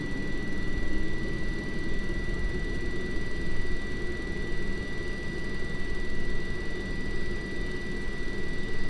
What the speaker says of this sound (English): keeping a good eye on the engine gauges as the engine spools up